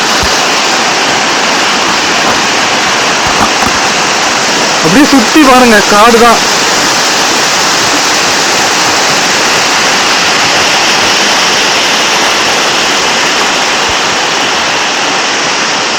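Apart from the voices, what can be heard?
waterfall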